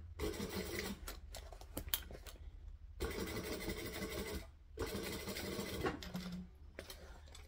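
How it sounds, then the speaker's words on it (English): A sewing machine stitches piping onto fabric for a vixen piece, running in several steady mechanical bursts separated by short pauses, close and fairly loud. "It's just a little bit of stitching, but it just makes it look better."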